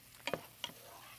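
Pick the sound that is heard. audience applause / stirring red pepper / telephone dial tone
stirring red pepper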